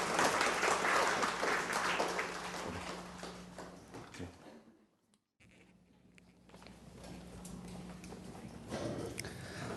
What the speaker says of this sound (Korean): 신경절 전문님께 다시 한번 뜨거운 박수 부탁드립니다